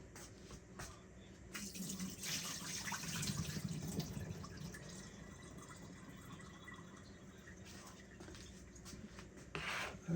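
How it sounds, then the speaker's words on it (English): Soaking water being poured off sea moss, a faint, close trickle and splash that swells and then settles into a thin steady pour, quiet and without talk. "Now look when I pour this water off."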